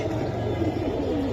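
A Giribaz pigeon coos softly in low, throaty murmurs against a steady background hum, with the cooing running continuously through the short moment.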